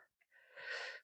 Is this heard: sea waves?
no